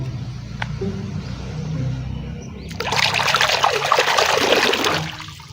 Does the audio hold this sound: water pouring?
yes